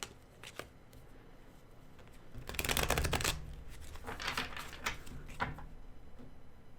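A deck of tarot cards is shuffled close by, a quiet crisp riffle building to a dense flurry of rapid flicks and then easing into lighter taps, with no talk.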